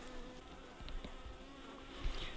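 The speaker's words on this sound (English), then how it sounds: "The bees will chew that out within a few hours and then the queen will be released into the hive." Honeybees buzz around a beehive in spring in Alaska, a dense, continuous drone close by, with a few individual bees whizzing past near the microphone.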